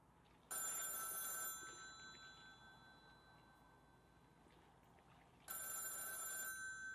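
A telephone rings in the video game Backbone Prologue, two bright electronic ring bursts at the start and near the end, separated by a quieter stretch of background ambience and faint hum.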